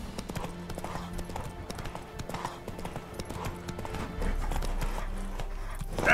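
Horse hooves clip-clop at a steady walking pace in The Witcher 3: Wild Hunt, close and moderately loud over ambient game sound with a low rumble, ending in a brief louder burst.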